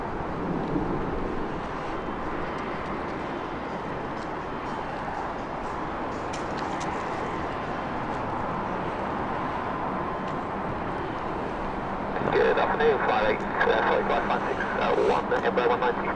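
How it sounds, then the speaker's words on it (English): An Embraer jet comes inbound to London City Airport at night, a faint, distant engine hum that builds slightly toward the end beneath steady talking. "inbound with the Embraer now starting to pick up just that little bit"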